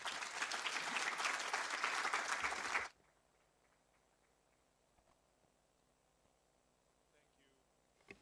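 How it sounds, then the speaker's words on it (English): A conference audience at an inaugural session bursts into loud, dense applause that stops abruptly after about three seconds, leaving a quiet room with faint rustles. "A round of applause, please."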